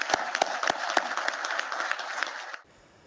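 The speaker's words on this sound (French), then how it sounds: "Je propose qu'on l'applaudisse." A room of people applauds an elected official after a vote, a steady burst of clapping lasting a couple of seconds with a few sharper claps standing out, then cutting off into quiet.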